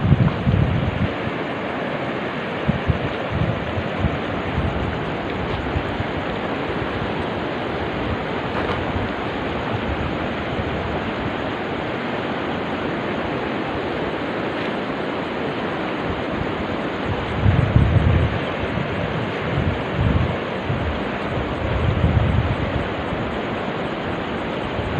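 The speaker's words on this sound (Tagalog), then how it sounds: "Ito ang ilog idol." A river in Sitio Maribujoc, Natumolan, Tagoloan, Misamis Oriental rushes steadily at night, a constant broad wash of flowing water with gusts of wind buffeting the microphone and insects trilling faintly above.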